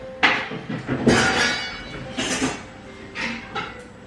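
Pots and pans clink and clatter in a home kitchen as cookware is shifted around in search of a small saucepan, several loud metallic bursts spaced apart with brief pauses, close by and with no voices.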